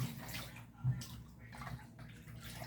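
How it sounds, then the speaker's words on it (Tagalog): Raw chicken is washed under running tap water in a home kitchen, a soft, steady splashing stream with a few brief gurgles, fairly quiet and close, with no talk. "Naghuhugas lang ako ng chicken."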